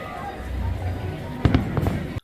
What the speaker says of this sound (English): We get some Disneyland fireworks as we leave DCA